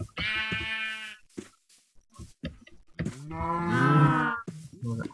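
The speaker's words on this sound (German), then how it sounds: "oh, ist das ein Schaf" Sheep in the Minecraft video game let out two loud, close bleats with a quieter pause between them and no talk over them.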